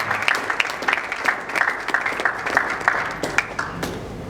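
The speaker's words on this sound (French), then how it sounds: "Sous vos applaudissements, messieurs et dames, nous accueillons le pasteur héritier Lionga." Audience applause greeting a pastor at an evening church book-launch ceremony, a steady patter of many hands clapping at moderate loudness from start to finish, with no talk over it.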